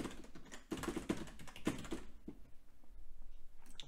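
Typing on a computer keyboard while entering an Apple ID during Mac OS X Snow Leopard setup in VirtualBox: a close burst of quick key clicks, a pause, then a few more scattered keystrokes.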